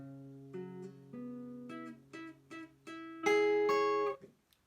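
An acoustic guitar barre chord is strummed repeatedly with notes changing, some strings, usually the third, muted by the finger and sounding dull and buzzy, ending in a louder full strum that cuts off.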